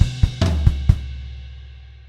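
Drum kit bar played with flams on the toms and floor tom plus bass drum hits: five sharp, close strikes in an uneven rhythm within the first second, then a long ringing decay with no voices.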